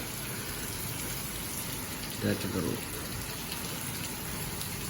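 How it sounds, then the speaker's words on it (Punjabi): Steady, dense hiss of heavy rain in Punjab fills the whole clip, with a brief spoken phrase cutting in near the middle. "ਸਾਰਾ ਹੀ ਪੰਜਾਬ 'ਚ ਦੇਖੋ ਮੀਂਹ ਦਾ ਕਹਿਰ"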